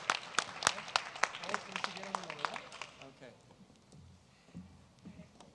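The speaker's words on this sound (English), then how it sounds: "One round of applause for our South El Monte High School Parent Walk Committee" Audience applause at a high school district event, a round of clapping for a parent walk committee: dense, bright claps rising sharply, then thinning out and fading over several seconds as the room settles.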